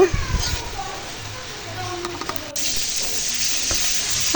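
Onion, green chili and ginger-garlic paste sizzle in a pan while being stirred, with a steady frying hiss that grows louder partway through and faint scraping. Children's voices and chatter drift in from the background.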